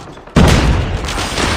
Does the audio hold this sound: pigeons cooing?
no